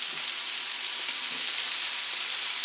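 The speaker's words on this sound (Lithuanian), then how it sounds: "Cukinija kepama kažkur kokias 7 minutės maždaug, vis pamaišydami." Zucchini pieces fry in a pan with a steady, dense sizzle that holds at an even level throughout, close and continuous with no talking.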